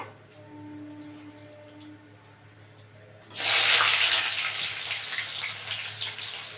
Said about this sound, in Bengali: এবার দিয়ে দেবো পেঁয়াজটা পেঁয়াজ ফোড়ন দেবো